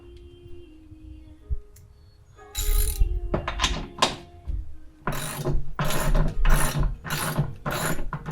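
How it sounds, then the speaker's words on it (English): Bolts being tightened with a ratchet while assembling a Gorilla cart, bursts of rapid clicking ratchet strokes in several loud close runs separated by brief pauses, no talking. "don't tighten stuff all the way down until you get all your bolts and stuff in"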